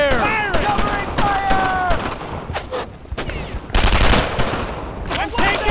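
Heavy gunfire from a World War II firefight in Brothers in Arms: Earned in Blood, with repeated rifle and machine-gun bursts crackling loudly throughout amid shouted voices.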